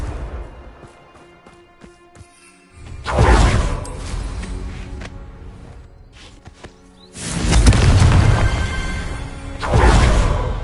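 Confringo blasting spell from a Hogwarts video game, three separate bursts landing a few seconds apart, each a whooshing crash with rumble and debris, the middle one heaviest, amid quiet game sounds and footsteps.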